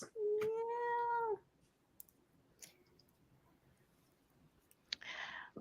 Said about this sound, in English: And we also have some comments about the presence of a kitty.